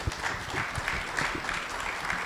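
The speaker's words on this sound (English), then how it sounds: "Give them a round of applause." An audience at an African research and innovation summit applauds the panelists, giving a steady wash of clapping at moderate volume with individual claps audible through it.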